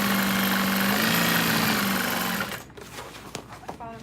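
A sewing machine runs steadily and loudly, stitching fabric with a constant whirring drone, then slows and stops after about two and a half seconds, leaving a few faint clicks and handling sounds.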